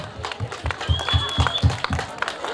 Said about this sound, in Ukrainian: Бурхливі оплески!